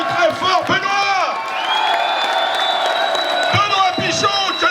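A French gala crowd claps, cheers and whoops for an honoree, lively bursts of voices and shouts mixed with clapping, swelling near the start and end with a held tone in the middle.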